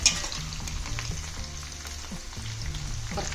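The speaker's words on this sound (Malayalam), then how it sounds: "നമ്മുടെ ചക്ക വറവായി വരുന്നുണ്ട് കേട്ടോ" Jackfruit pieces fry in hot coconut oil with a steady, soft crackling sizzle, broken by occasional light stirring clicks and no talk.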